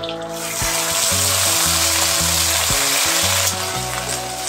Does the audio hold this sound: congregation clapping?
no